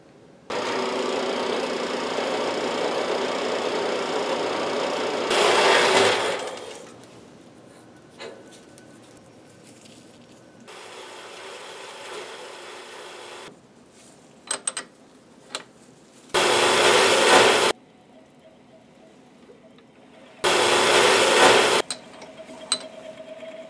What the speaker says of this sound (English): going to make it round, then turn the outside diameter, then we'll bore the inside diameter